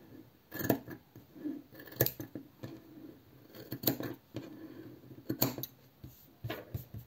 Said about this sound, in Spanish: Entonces, pues los vamos a recortar un poquito.